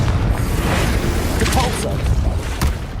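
Explosive spell blasts from Bombarda and Confringo in Hogwarts Legacy go off in a quick run of booming bursts and crackles during combat, mixed with a shouting voice calling out spells.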